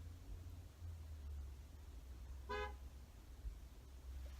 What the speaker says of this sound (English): she's just sitting here honking